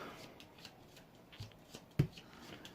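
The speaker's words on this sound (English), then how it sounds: "Do that shuffle." A deck of cards shuffled during a tabletop card game, soft quiet riffling and rustling with a sharper snap near the end, close and faint with no talking.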